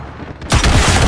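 An RPG-7 rocket blast in Call of Duty (2019) during a 10 vs 10 team deathmatch: a brief lull gives way to a sudden loud, heavy boom that roars and rumbles through the rest of the moment, with no talking.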